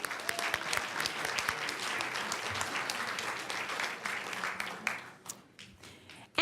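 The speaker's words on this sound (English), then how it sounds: "Let's give Julie another big round of applause." Audience applause at a school board meeting honoring a staff member: sustained, dense clapping from a seated crowd that holds steady for about five seconds, then thins into scattered claps as it dies away.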